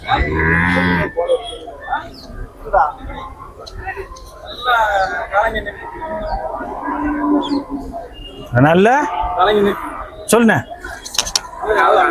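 Cattle moo repeatedly at the Melapalayam cattle market in Tirunelveli district, loud and close, several long lowing calls spread across the scene while people talk in between.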